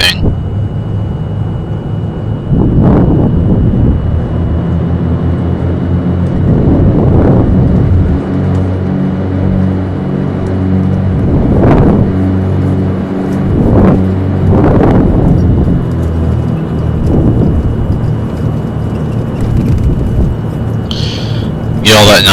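An Alabeo Cessna 404 taxiing in a flight simulator game gives a loud, continuous twin-engine drone. The pitch swells and falls again and again as the throttle changes, with no voices over it.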